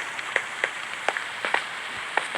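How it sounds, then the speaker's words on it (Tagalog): Steady rain patters with scattered sharp drops tapping irregularly over a constant hiss, rain mixed with snow in the video game Minecraft. "Ngayon, ulan sabay may kahalang snow."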